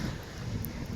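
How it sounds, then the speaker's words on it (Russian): Piercing cold wind at a winter seaside in Vityazevo buffets the microphone in a dense, rumbling roar, close and continuous, with stormy sea noise folded into the gusts. "Пронизывающий ветер"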